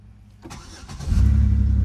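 Car engine starting nearby: a brief starter crank, then the motor catches and settles into a loud, steady low rumble.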